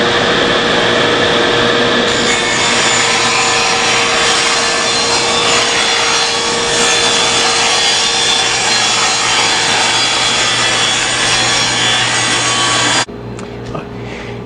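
A table saw rips through a wooden board being cut to length for a display case, a loud continuous whine and rasp of blade in wood lasting about eleven seconds before cutting off into a quieter motor run-down.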